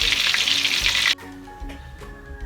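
Papaya spring rolls (lumpiang papaya) sizzling in shallow oil, a loud steady frying hiss that drops abruptly partway through to a softer, quieter crackle.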